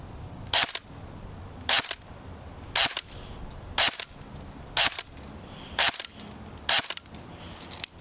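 An airsoft gun fitted with a Madbull 6.03 steel barrel fires over a chronograph. Seven sharp, loud cracks come at an even pace of about one per second, with quiet gaps between them.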